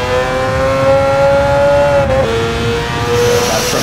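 A four-rotor Mazda RX7, built as a street-legal take on the 787B, revs high with a loud, steady, shrill wail that holds and then shifts pitch briefly before settling again.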